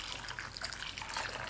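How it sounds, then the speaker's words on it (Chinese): Warm water pours into a large bowl holding sliced ginger and Sichuan peppercorns, making a steady, close splashing flow that lasts the whole moment with no talking. "加上温水浸泡20分钟"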